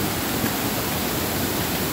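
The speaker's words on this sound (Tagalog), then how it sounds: "The one and only Nahulugan Falls o ya sa Higmoto" Nahulugan Falls pours with a steady, dense roar of falling water, heard up close as a continuous broadband rush with no voices.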